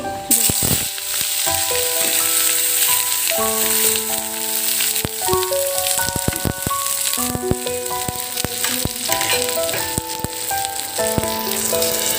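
Chopped onions fry in a pan of hot oil with bay leaf, a loud continuous sizzle with occasional stirring scrapes, while tonal background music plays underneath.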